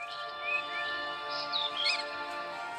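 Several brief, bright bird chirps come in short bursts a beat apart over a faint steady hum, light and close, with no talking.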